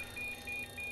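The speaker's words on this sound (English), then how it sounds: "That beeping does not sound good." A crashed flight simulator program gives off a repeating electronic beep. Three short, steady, high-pitched tones come at an even pace with brief gaps between them, fairly quiet and heard alone.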